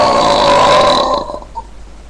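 A single loud, drawn-out human burp lasting about a second before trailing off into quiet, with no talking over it.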